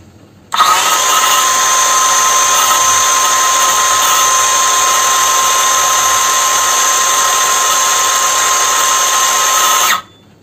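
An Ingco CSLI 1651 cordless circular saw on a 20 V battery runs free for about nine seconds, a loud steady high-pitched whine that starts abruptly and winds down at the end, with no talking.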